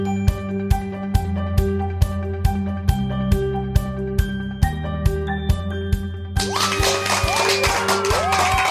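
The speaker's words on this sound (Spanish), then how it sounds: "esos aplausos" Audience applause bursts out as dense, steady clapping after several seconds of rhythmic, tonal music with regular beats.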